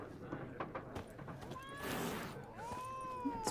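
A cat in The Witcher 3 meows in a couple of rising, drawn-out cries over a faint game background with light footsteps, fairly quiet and close.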